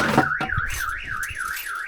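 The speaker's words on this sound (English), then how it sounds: "someone forgot to turn the alarm off." A car alarm wails in a steady rising-and-falling siren pattern, loud and close, cycling repeatedly across the short stretch with no talk over it.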